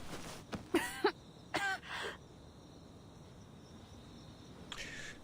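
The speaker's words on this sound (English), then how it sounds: "She coughs" A video game character coughs in a few short, rough bursts, then fades into quiet background ambience.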